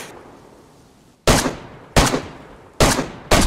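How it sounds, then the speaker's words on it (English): Four loud, sharp gunshots ring out in DayZ, each followed by a decaying echo, spaced unevenly over a few seconds with a quiet lull before the first. "I'm shooting"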